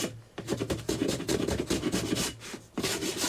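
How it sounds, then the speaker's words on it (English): A small folding handsaw with a Japanese blade cuts through wood in quick back-and-forth strokes, each pass a close, rasping scrape, with brief pauses between bursts. "I'm using a little folding handsaw with a Japanese blade for this cut"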